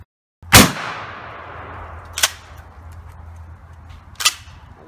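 A shotgun fires a homemade slug made from two sockets, one big and one little, joined together, giving a sharp, loud blast with a long decaying tail, followed by two more sharp reports.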